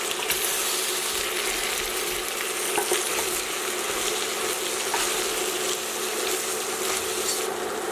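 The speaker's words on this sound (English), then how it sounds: "at this point, guys, I'm going to add in both my peppers" Sliced peppers tumble into beef frying in a pan and get stirred, giving a loud continuous sizzle with scraping and rattling stir sounds throughout and no voices.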